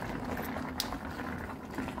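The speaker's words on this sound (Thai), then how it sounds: "ทุกคนหม้อลุงเดือดแล้ว" A pot of bamboo shoot curry with mushrooms and wild garlic boils steadily, a dense continuous bubbling and gurgling close by, with one brief sharper splash near the middle and no talking.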